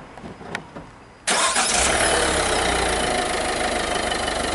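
A car engine cranks and catches with an abrupt loud burst, then settles into a steady close idle hum after a few quiet clicks.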